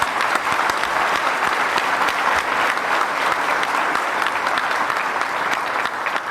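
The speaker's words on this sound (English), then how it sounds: "Please join me in a round of applause." A large audience applauding Governor Jeff Landry at a State of the State address, a dense, steady wash of clapping that holds at an even level throughout, loud and continuous without voices standing out.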